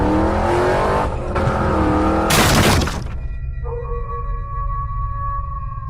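A motorbike speeds fast in an animated cartoon: a loud, steady engine roar, then a sharp crash-like burst midway, followed by lingering ringing tones over a low rumble.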